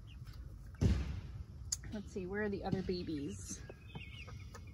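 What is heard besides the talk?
chickens clucking, egg-laying hens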